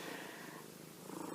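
A pet cat named Patsy purrs steadily up close, a soft continuous rumbling drone running through the whole moment without any talking.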